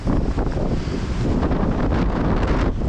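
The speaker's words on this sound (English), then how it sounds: "You can see that it's pretty windy." Strong winter wind blows around a tarp shelter, a loud, continuous roar buffeting the microphone with gusty surges throughout and no voices.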